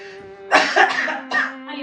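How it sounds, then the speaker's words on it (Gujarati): A person coughs from a cold in a few harsh, loud bursts close by, with a steady tonal hum in the background. "શરદી ઉધરસ બહુ થઈ ગયા"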